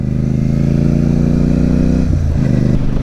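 A Royal Enfield Super Meteor 650 motorcycle being ridden gives a loud, close, steady engine drone that shifts in pitch partway through, with no voices.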